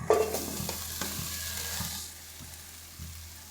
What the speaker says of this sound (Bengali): এবারে আলু আর বাঁধাকপি এর মধ্যে দিয়ে দেব।